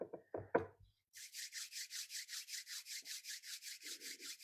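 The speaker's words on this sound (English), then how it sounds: "rubbing the hands together or just kind of bringing some energy into the fingers" Hands rub together in quick, steady back-and-forth strokes, a dry swishing repeated about fifteen times in a regular rhythm after a few soft knocks and handling sounds, close and fairly quiet in a calm indoor setting.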